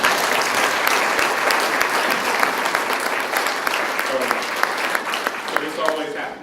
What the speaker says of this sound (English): you clap after the poem